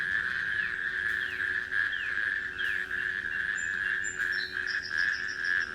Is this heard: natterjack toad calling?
yes